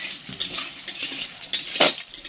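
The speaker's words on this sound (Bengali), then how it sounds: "এবার আলুটাকে একটুখানি লালচে করে ভেজে নেবো" Potato pieces fry in a pan until reddish, a soft sizzle broken by several short metallic scrapes and clinks of a spatula against the pan.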